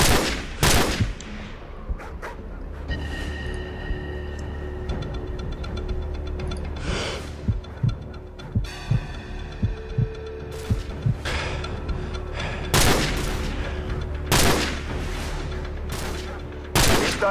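Gunfire in a Call of Duty 4: Modern Warfare battle, sustained automatic bursts and single loud shots going on for several seconds, with brief pauses between volleys and game sound in the background.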